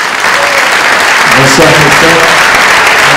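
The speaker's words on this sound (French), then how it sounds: "que l'on peut applaudir" Steady audience applause at an evening stage event, continuous and fairly loud, with a voice greeting someone over the clapping.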